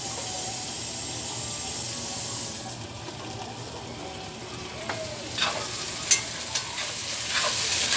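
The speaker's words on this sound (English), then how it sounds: "I'm gonna go over here and stir this again, because all the juice comes out" Onions caramelizing in a pan for a chicken pot pie, with a steady soft sizzle and a few brief scraping strokes of the spoon toward the end, close and moderately loud, no talking.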